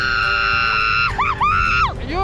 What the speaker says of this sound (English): You're a good screamer.